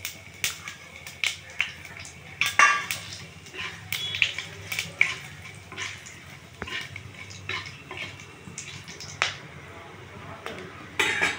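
Dried chillies, cumin, bay leaf, cardamom, cinnamon and cloves sizzling in hot oil, with intermittent sharp crackles and pops and clinks of a utensil against the pan, moderately close and uneven in rhythm.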